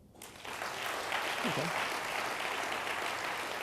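A lecture audience at a symposium breaks into sustained applause that swells within the first half second and holds steady, with a brief spoken word near the start.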